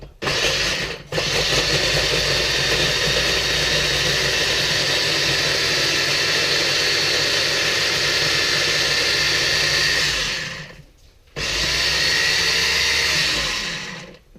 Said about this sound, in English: And I'm gonna use a chopper, chop it up.